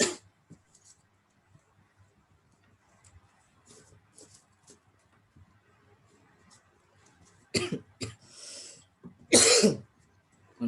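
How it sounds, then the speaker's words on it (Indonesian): A man coughs in a quiet room, with a few faint throat sounds early on, then two loud, harsh cough bursts near the end, close to the microphone. "lagi batuk."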